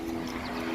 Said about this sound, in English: now there's a helicopter.